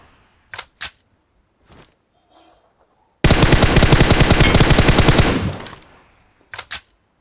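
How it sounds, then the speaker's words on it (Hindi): A single sustained burst of rapid automatic gunfire in BGMI, loud and close, with a few faint clicks before and after. "मुझे वहाँ पोचंग की साइड से कुछ फायरिंग की आवाज़ आ रही थी"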